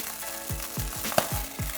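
Thick-cut bacon sizzling in a pan with a hiss that never stops, punctuated by several sharp low pops and splatters every quarter second or so, close and fairly loud with no talking.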